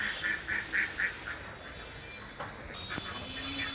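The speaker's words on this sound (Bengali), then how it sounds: "হাঁসগুলো পুকুর থেকে বাসায় চলে আসে তারা খাবারের সন্ধান করছে" Ducks returning home from a pond quack in a short run of rhythmic, fairly faint calls, followed by quieter rustling and a faint steady tone in the background.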